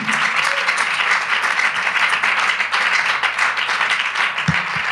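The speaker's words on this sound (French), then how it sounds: "Est-ce qu'on peut acclamer le Seigneur?" Church congregation applauding and cheering for the Lord, a dense sustained wash of clapping and voices filling the space at steady loudness throughout.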